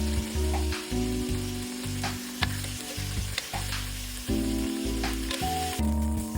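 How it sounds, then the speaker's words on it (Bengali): Chicken leg quarters seasoned with chili powder and salt frying in oil, a steady loud sizzle with intermittent clinks and stirring scrapes of a utensil in the pan, no talk. "হালকা করে ভেজে নেব।"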